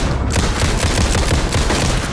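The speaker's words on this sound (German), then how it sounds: "Alter, kann der schnell schießen." Rapid, continuous gunfire from a weapon in the video game Alan Wake 2, loud and close, with dense shots in quick succession and no pauses.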